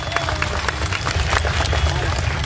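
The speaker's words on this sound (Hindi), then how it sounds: "ताली बजाइए हमारे देश की बेटी के लिए।" A crowd at a political rally claps and applauds continuously, a dense, steady wash of hand claps with some crowd noise mixed in.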